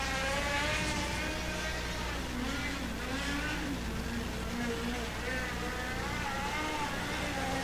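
A USAC midget race car engine on a red dirt track drones and revs over several seconds, rising and falling in pitch, while a commentator talks over it.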